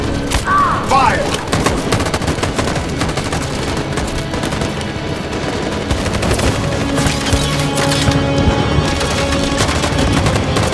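Sustained soldier gunfire in the video game Detroit: Become Human, dense rapid bursts and shots layered over a loud battle din with booms, continuous for the whole stretch, with shouted voices faintly mixed in.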